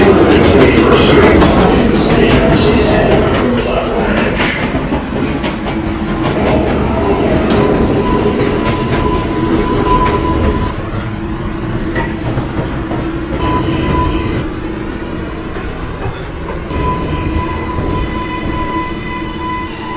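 A New York IRT 5 express subway train runs loudly with a continuous rumble and rattling wheels, occasional squeals and tonal whines rising over the steady roar.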